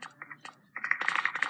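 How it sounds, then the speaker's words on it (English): Keys clatter on a computer keyboard in a Minecraft game, sparse taps at first, then a quicker, denser burst of close typing with no voices. "I hear typing."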